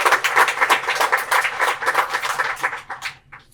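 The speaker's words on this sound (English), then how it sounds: "Let's give them all a great round of applause again." A crowd at a school Student of the Year morning ceremony claps in a warm, dense round of applause that holds steady, then thins and fades out.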